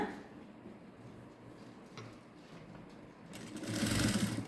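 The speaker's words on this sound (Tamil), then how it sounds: "நான் மடக்கி அடித்து நல்லா ஃபோல்ட் பண்ணி ஒரு தையல் கொண்டு வரேன்" A sewing machine runs close by while stitching a puff sleeve, a quiet low whirr with faint ticking that swells into a louder, faster burst near the end, with no one speaking.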